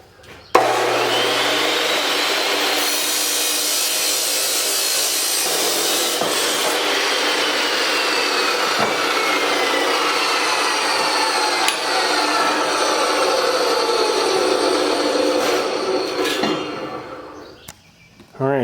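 A metal track for a barn-style door being cut, a loud continuous grinding, abrasive cutting noise running steadily for most of the stretch before stopping near the end.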